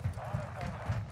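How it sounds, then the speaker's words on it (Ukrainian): Running footsteps in Call of Duty: Modern Warfare II Warzone 2.0, a quick run of low, muffled thuds repeating at a steady pace under a busy game mix with voices. "Хтось біжить."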